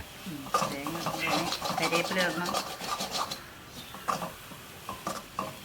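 A spoon scrapes and stirs grated coconut and small onions in a pan for a Kerala-style onion stir fry, with repeated close scratchy rubs while someone talks over it.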